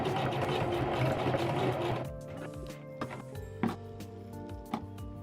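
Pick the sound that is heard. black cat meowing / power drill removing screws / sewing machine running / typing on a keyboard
sewing machine running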